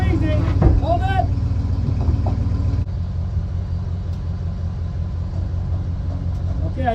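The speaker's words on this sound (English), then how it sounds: "Okay, drive ahead a little bit." A vehicle creeps slowly forward while a water tank is prepped ahead of an Alaskan freeze, its engine a steady low rumble throughout, with a person's voice calling out directions over it early on.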